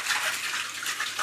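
Boiling water pours steadily from a kettle over used tea lights sitting in a colander, giving a soft, continuous splashing wash with no voices.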